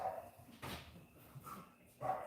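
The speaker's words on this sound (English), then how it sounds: "We got that dog stirred up now. He don't know what to think about that. Other than bark." A stirred-up dog barks a few times at a garage, the barks fairly faint and spaced out against a background of room noise.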